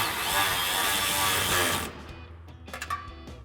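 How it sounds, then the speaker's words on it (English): Ratchet and 10mm wrench tighten pinch weld bolts for drop steps on a 2010-2026 RAM 2500. A loud whirring noise cuts off and is followed by a quick burst of close metallic clicks. "We're going to use our 10mm socket on our ratchet and a 10mm wrench to tighten down our pinch weld bolts first"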